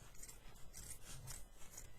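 Paper fabric being trimmed around its edge gives soft, rasping cuts and rubbing strokes in uneven bursts, quiet and close with no speech.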